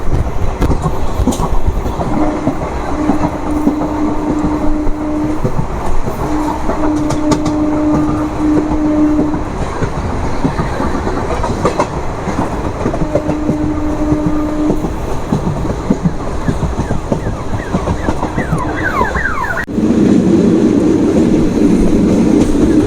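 The Howrah Kaviguru Express passenger train rumbles steadily along the tracks near Nalhati Junction, wheels clacking, with a horn sounding in bursts before a louder rattling stretch near the end.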